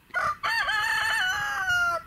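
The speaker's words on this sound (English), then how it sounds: "if that chicken doesn't shut up" A rooster crows nearby in one loud, drawn-out call with clucking at the start, heard alone with faint outdoor background.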